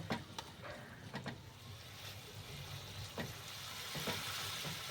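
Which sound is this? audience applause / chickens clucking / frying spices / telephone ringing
frying spices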